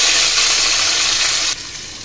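Garlic and onions frying in a pan make a loud, dense, steady hiss close up, which drops suddenly to a softer sizzle near the end.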